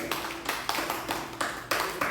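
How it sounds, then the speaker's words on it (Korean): A congregation claps at a Friday evening prayer meeting in a Korean church, a run of sharp group claps landing in a loose, steady rhythm, close and fairly loud. "박수 한번 쳐줘야지"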